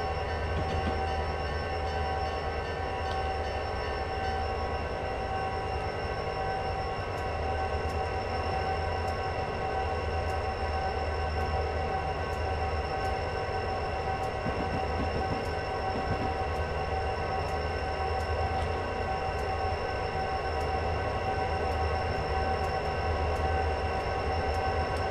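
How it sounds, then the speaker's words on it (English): A train passes in the Train Simulator 2016 game, a continuous rumbling rail roar with steady mechanical hum and faint rhythmic wheel ticks, loud and unbroken with no talk. "Passing by another train right there."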